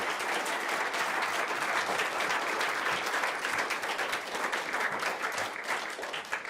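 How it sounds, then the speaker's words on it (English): A studio audience on a rugby talk show breaks into steady applause, dense and continuous for several seconds, with faint voices underneath. "Give them a round of applause."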